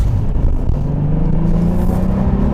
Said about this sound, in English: God, man, that really sounds good. It just has this growl to it.